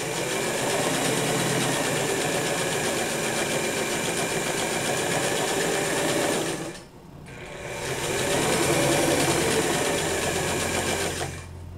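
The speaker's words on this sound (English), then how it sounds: "Run a seam along the back." A sewing machine runs a long back seam on a pair of pants, a steady loud mechanical whir that stops briefly midway and then starts again, running alone without talk.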